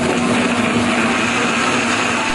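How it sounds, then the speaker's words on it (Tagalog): A blender runs continuously on chicken soup mixed with rice and water, a loud, close, steady motor whir with a constant hum and no talk. "Saka pinaandar ang blender."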